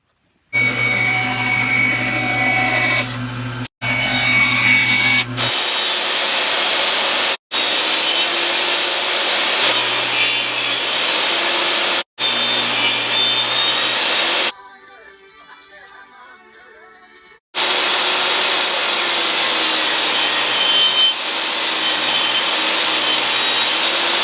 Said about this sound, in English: The next step is cutting out strips of wood that are going to go vertically across the top or around the top